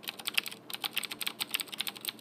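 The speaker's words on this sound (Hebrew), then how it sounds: "היא מקלדת ממש טובה, אבל היא קצת מרעישה, כפי שאתם יכולים לשמוע." A noisy computer keyboard clatters under steady, quick typing, with sharp close-up key clicks in an irregular rapid rhythm and no voices over it.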